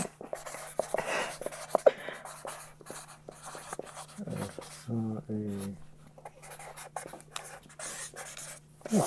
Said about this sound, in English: We're just going to write that down.